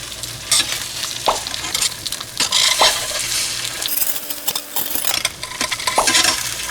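Egg tofu pan-fries in a stainless steel pan with a loud, close sizzle, while wooden tongs scrape and clack against the metal in repeated short strokes as the pieces are turned.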